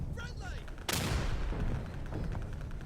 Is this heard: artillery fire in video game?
yes